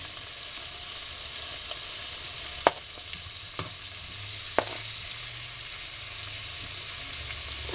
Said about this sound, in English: I'm going to add my meat, hopefully without spilling it all over.